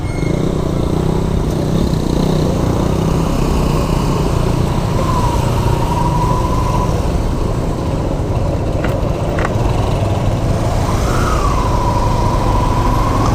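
A large truck rumbles along a one-way street near a crossing, its engine loud and close, droning steadily throughout with no pauses and no voices.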